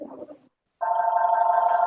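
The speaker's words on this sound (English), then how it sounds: "my phone is ringing in the background" A telephone rings in the background of a fire board meeting, a steady electronic tone that starts after a short murmur and a moment of silence, then holds evenly and fairly loud.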